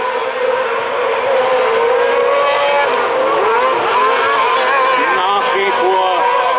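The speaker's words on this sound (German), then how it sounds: "Kontrolliert fährt der Erwin Grenzes von der Spitze weg" Junior buggy race cars run a heat at Seelow, their engines whining and droning continuously at middle distance with shifting revs, while a commentator talks over the race.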